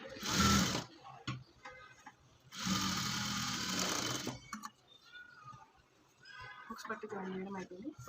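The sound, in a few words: sewing machine stitching a blouse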